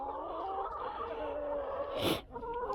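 Chickens on a farm with ducks nearby cluck steadily as grain is scattered for them, a close, continuous murmur of hen calls with a brief louder rustle near the end.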